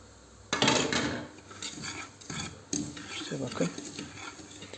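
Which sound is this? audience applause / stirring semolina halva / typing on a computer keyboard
stirring semolina halva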